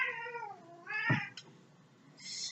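A kitten meows in a close, clear series of calls: a long drawn-out meow, a shorter cry and a higher squeak at the end, with no talking.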